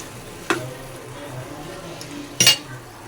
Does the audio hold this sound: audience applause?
no